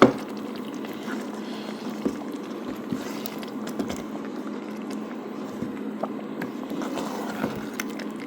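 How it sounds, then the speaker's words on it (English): Half a cup of water poured into a pot of simmering red beans, a steady low bubbling and liquid wash with small splashes and clicks throughout, fairly close. "I just want to let you see what it looks like when I add a half a cup of water"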